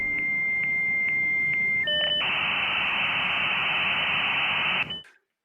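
A dial-up modem connection sound: a dial tone broken by short pulses, then a few shifting tones, then a loud, steady hissing handshake screech that cuts off abruptly.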